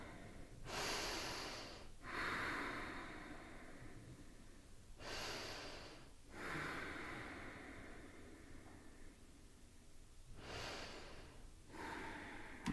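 Slow deep breaths during a yoga session, each long airy inhale and exhale rising and fading in a steady rhythm, close and soft with no talking.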